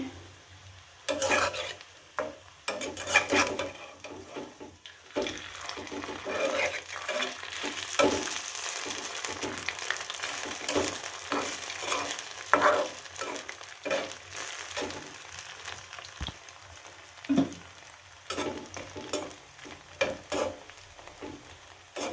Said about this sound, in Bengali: এখন আমি ফুলকপির বড়াগুলো করে নিলাম চুলায় ফুলকপির বড়া বসিয়ে দিয়েছি